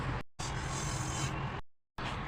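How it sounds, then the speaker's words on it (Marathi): Roasted whole green mung beans are scraped and tipped from the pan into a wide plate, making a dry, close rustling and scraping in two stretches separated by brief silent pauses. "आता मी हे परातीत काढून घेते"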